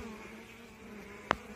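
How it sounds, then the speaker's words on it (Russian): Foraging honeybees carrying pollen loads, with a willow mentioned nearby, make a faint, steady buzzing hum, broken by one brief sharp tick near the end. "Пчелка работает, отдельно идет с обножечкой."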